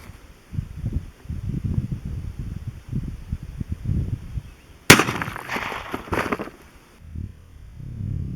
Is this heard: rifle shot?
yes